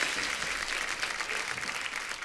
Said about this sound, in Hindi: एक बार जोरदार तालियां अभिषेक सर और चित्रांगदा के लिए